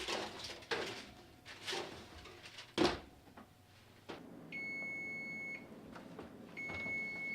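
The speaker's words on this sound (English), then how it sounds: "can you get the oven door for me? And we'll go ahead and stick these back in." A kitchen oven door is opened and a baking tray of cookies is slid back inside with a sharp clatter, followed by two steady electronic beeps from the oven, all heard close up with no talk.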